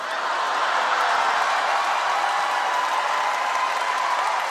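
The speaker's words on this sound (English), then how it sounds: "Why are we clapping?" Steady, dense applause and clapping from a comedy show audience fills the room, loud and even throughout with no talk over it.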